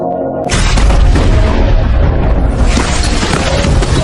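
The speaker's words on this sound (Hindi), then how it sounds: "एक पल बाद कब्रिस्तान में धमाका हो गया।" A sudden, very loud explosion in a cemetery erupts and rolls into a sustained, thundering roar of debris and rumble that fills the rest of the clip.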